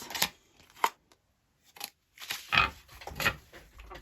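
A tarot card deck being shuffled up close, quiet papery riffles and snaps coming in short irregular bursts with brief pauses between them.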